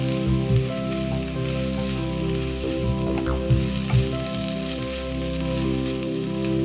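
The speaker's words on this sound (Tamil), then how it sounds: "ஒரு கால் கப் பிரிவின தேங்காய் பூவும் ஒரு தேக்கரண்டி மஞ்சளும் சேர்த்து புடலங்காயோட சேர்த்து வறுப்போம்" Snake gourd frying in a pan with grated coconut and turmeric gives a steady, close sizzle with occasional stirring scrapes and clatters, under a constant low hum and no talking.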